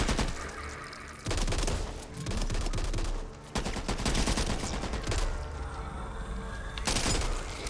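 Sustained bursts of automatic gunfire in the zombie shooter game Back 4 Blood, loud and close, with rapid volleys broken by brief pauses and heavy low-end booms throughout.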